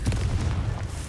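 A Confringo fire spell detonates in Hogwarts Legacy with a short, deep, booming explosion that rumbles loudly through its whole length, with no voices over it.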